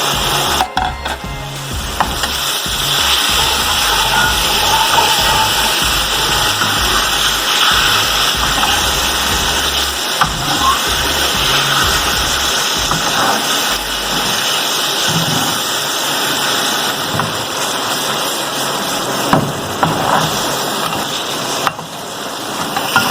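Stuffed green chillies frying in a pan for pickled chilli, a loud, continuous sizzle and crackle of hot oil that runs unbroken for over twenty seconds.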